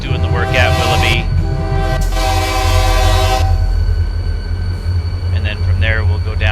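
A train rumbles along in the railroad simulation game Railroader, its deep engine drone steady under two long horn blasts, while someone talks over it.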